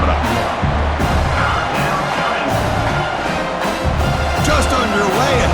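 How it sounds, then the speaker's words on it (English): A home crowd at a CFL football game, Calgary at BC Lions, roars steadily in a large stadium, a loud continuous wash of cheering with announcer-style talk layered over it. "this home crowd is fired up and ready to make a difference today"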